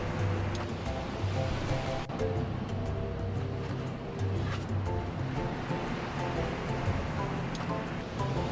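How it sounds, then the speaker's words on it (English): Ocean waves wash against a mangrove island shore in picked-up wind, a continuous rushing surf with faint crackles and splashes on top, steady and fairly close, no voices. "The wind has picked up a bit and there are some waves."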